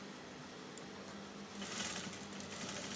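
A sewing machine stitching the facing seam on a flared blouse, a soft, steady mechanical whir that starts faint and grows noticeably louder and busier halfway through, with no voices.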